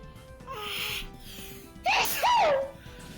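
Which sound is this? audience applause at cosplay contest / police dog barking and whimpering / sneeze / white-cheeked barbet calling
sneeze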